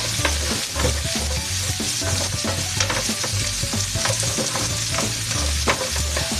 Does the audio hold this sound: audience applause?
no